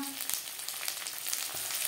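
Fried coconut and ginger paste crackle in a pan for a cholar dal with cauliflower, a low constant sizzle with a few stirring scrapes, near and faint.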